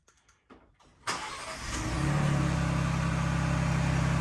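A car engine cranks and catches after a brief quiet, then settles into a steady, loud idle with a deep exhaust note, heard alone up close.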